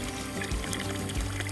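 Water poured out for drinking outdoors on a rough backcountry trek, a steady continuous pour with brief gurgling surges, close and fairly loud.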